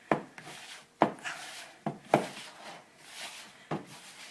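Bannock dough mixed and rolled by hand, giving soft, close dull thumps and rubbing pats at an uneven rhythm with quiet scraping between them and no voices.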